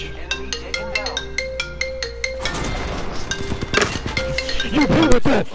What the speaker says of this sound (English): Why do I keep getting phone calls,